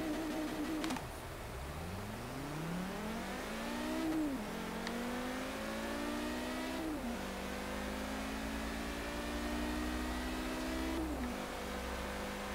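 A car at full throttle in Forza Horizon 3, its engine climbing steadily in pitch through several gears, with a brief dip at each shift before it rises again, loud and continuous throughout.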